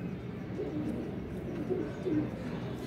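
Several pigeons coo in short soft phrases amid steady low background noise, close by and with no talking.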